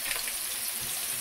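Chopped onion fries in a pan, giving a steady, soft, hissing sizzle throughout with no voices.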